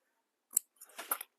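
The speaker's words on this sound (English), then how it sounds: "pull the zipper out of the way, and we're going to snip the corners" Scissors snip through fabric at the corners beside a zipper, one crisp close cut followed by a short cluster of quicker snips, in an otherwise quiet room.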